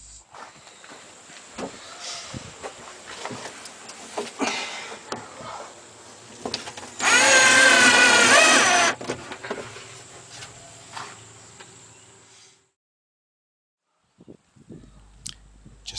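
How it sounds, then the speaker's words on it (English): A power tool drives stainless steel screws into a bin, giving one loud, steady whirring burst of about two seconds midway, surrounded by quieter handling and clattering noises. "we're going to secure it in place by screwing the stainless steel screws into the bin"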